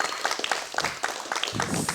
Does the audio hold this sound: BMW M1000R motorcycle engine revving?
no